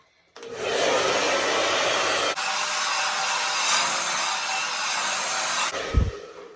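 Hair dryer blowing steadily on natural hair during an at-home blowout, a loud continuous whoosh with one brief shift in pitch midway before it cuts off near the end.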